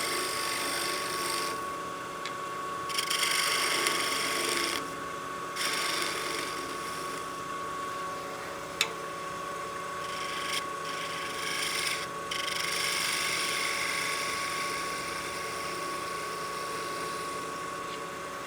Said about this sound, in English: We'll just use the spindle gouge just to round over the point.